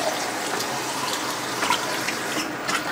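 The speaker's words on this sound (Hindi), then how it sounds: "ये देखें 1 गिलास और हमने डाल दिया, तकरीबन 3 गिलास हमने पानी के डाल दिए।" Water pours steadily from a glass into a cooking pot of beef with garlic and ginger paste, a continuous close rushing splash without speech.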